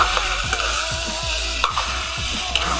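Onions sizzle steadily in a pan with a spatula scraping and stirring in a regular rhythm, close by, no talking.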